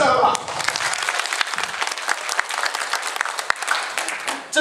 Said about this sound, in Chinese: 我们给大家一个掌声好不好？